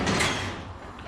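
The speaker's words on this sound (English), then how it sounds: "I'm gonna go ahead and open this door just a little bit more." Door of an Acura RDX with a K23 turbo swap and custom paint opening close up, a short mechanical swing with a soft latch release, loud at first and fading over about a second.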